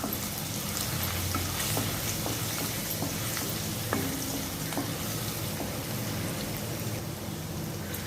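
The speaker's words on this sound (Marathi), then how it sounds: "तेल गरम झालं की त्यात बारीक चिरलेलं आलं आणि ओली मिरची घालून 5 ते 10 सेकंद परतून घ्यायचं आहे।" Finely chopped ginger and green chili sizzle in hot oil for a fish curry, a steady dense crackle with scattered pops and light stirring, close and continuous with no talk.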